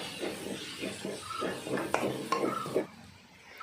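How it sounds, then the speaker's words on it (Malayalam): Chopped tomatoes being stirred into a frying chicken curry masala in a pan, a quiet rhythmic series of spoon scrapes and metal clinks over a soft sizzle, ending with a few sharper taps against the pan. "തക്കാളിയും കൂടി ഇട്ട് കൊടുത്ത ശേഷം നന്നായിട്ടൊന്ന് മിക്സ് ചെയ്യാം"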